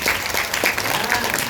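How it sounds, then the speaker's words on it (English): Audience at an inspirational sales talk breaking into a short, dense burst of applause, loud and continuous with crowd noise mixed in. "Can we give ourselves a round of applause for coming here?"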